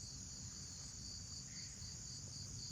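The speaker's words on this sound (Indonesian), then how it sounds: "hanya ada suara jangkrik, suara tokek" Crickets chirp in a steady, continuous high-pitched drone at night in the Alas Purwo forest, a constant insect chorus with no talking and no pauses.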